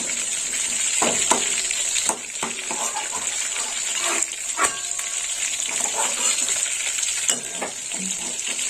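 Fish frying in oil in a pan gives a steady, dense sizzle throughout, with a few sharper crackles and spatters rising above the constant hiss.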